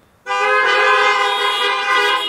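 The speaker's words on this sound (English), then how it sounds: "Give me a honk if you say amen." Car horns honk at a drive-in church service, sounding as one loud, sustained blare that starts abruptly and holds steady for about two seconds.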